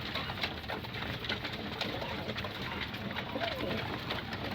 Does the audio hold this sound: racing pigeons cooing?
yes